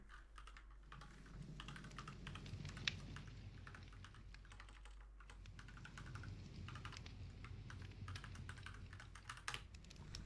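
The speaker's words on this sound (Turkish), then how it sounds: "Şifremi giriyorum." Steady typing on a computer keyboard while a password is entered, a continuous run of quiet, close key taps with brief pauses and no voices.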